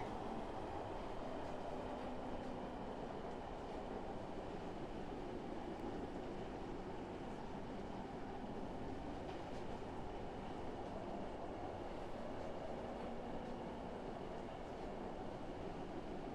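A train in the Roblox game Stepford County Railway rolls steadily toward Edgemead, a constant low rumble of wheels and motor with a faint rhythmic clatter, with no voices.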